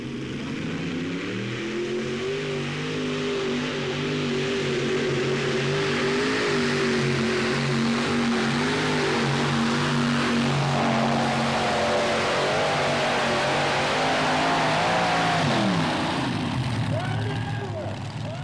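A modified pulling tractor powered by five Chevrolet V8 engines roars loudly and continuously, its engine note rising and shifting under strain before dropping near the end.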